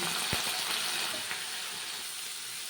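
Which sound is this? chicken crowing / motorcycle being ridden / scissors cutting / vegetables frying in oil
vegetables frying in oil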